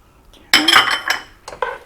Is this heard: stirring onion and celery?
yes